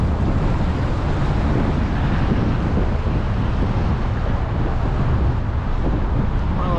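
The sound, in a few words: strong wind on an e-bike ride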